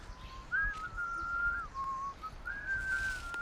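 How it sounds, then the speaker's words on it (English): Faint melodic whistling serves as a sound effect in a student film, a wavering tune of a few held and sliding notes over a quiet hiss. "that sound design there with him, with the whistling coming in, isn't bad"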